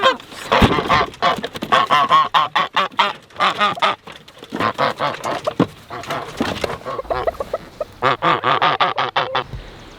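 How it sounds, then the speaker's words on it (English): Guinea fowl on a small farm calling loudly and close in rapid, harsh, repeated honking cries, a near-continuous burst of calls with brief pauses. "there's the other guinea"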